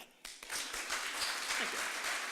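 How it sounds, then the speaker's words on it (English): Applause at a faculty and staff award luncheon and retirement celebration: a brief pause, then clapping swells quickly into a sustained, moderately loud ovation from the room. "Let's clap for that."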